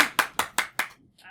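At a convention panel on improv for tabletop gamers, hands clap five times in an even, quick rhythm. The claps are sharp and close, followed by a brief murmur.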